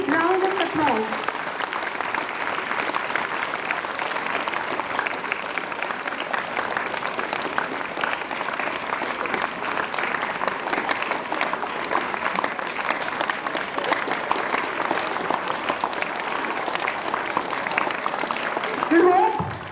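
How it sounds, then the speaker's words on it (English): A school audience gives a long, steady round of applause congratulating a student who secured an IIT Roorkee seat, dense even clapping sustained for nearly twenty seconds with a brief voice at the start. "let us all congratulate him once again with a big round of applause"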